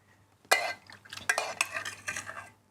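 Prawns are stirred in soy butter in a pan: a sudden metallic clink, then a run of scraping and tapping utensil strokes with a light sizzle, fading out after a couple of seconds.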